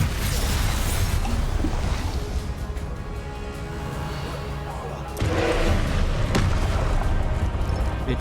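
The explosive Confringo spell cast in Hogwarts Legacy: a steady, noisy rumble of game sound, then a sudden blast partway through and a sharp impact shortly after.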